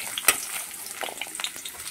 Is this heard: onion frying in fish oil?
yes